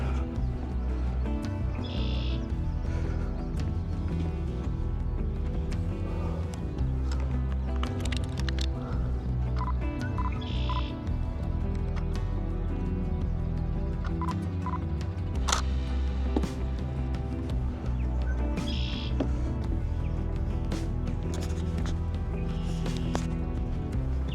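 Birds chirp and tweet in short scattered calls by a pond over a constant outdoor background, fairly faint and at a moderate distance.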